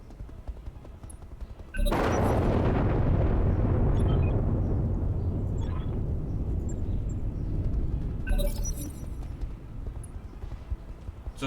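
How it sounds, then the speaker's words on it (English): A thermobaric explosion in the mech game BattleTech RogueTech erupts suddenly as a loud, deep blast, then rumbles on for several seconds before a second burst near the end, with no talk over it. "Thermobaric explosion?"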